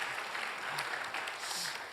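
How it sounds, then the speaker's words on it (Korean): Church audience applauds to encourage a pastor taking the stage, a continuous wash of many hands clapping, fairly faint and distant, steady through the short span. "박수로 격려해 주시기 바랍니다"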